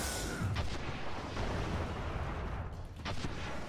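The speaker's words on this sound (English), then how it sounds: "I'm literally kind of firing blindly down there." Gunfire in the video game Destiny 2 during a solo Nightfall run, a dense rumbling barrage of shots and blasts that stays loud throughout, with a few sharper cracks standing out.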